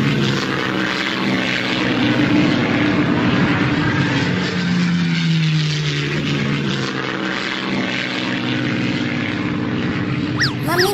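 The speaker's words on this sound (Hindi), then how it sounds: "पापा मुझे किसी जहाज की आवाज सुनाई दे रही है।" Propeller aircraft engine drones steadily and loudly throughout in a Hindi cartoon story, approaching with a rising, sustained roar over the whole stretch.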